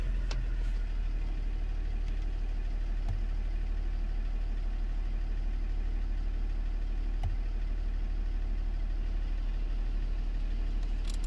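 A scrapped Jaguar XJ 3.0 diesel idles steadily at a low, even rumble, with a couple of faint clicks over the constant engine drone.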